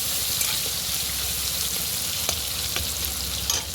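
Food fries in a pan on a home stove, a steady loud sizzle filling the whole stretch with a few faint utensil clicks on top and no talking.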